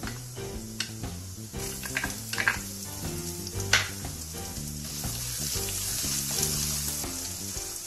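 Chopped ginger sizzles in hot oil with cumin while suji upma is being made, a steady close frying hiss with occasional stirring clinks, set against background music.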